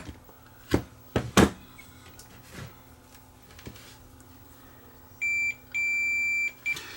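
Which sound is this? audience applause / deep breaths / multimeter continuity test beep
multimeter continuity test beep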